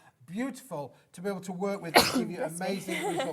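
A single sharp sneeze bursts out mid-sentence during a papercraft stamping and die-cutting demonstration, brief and loud against steady talking before and after.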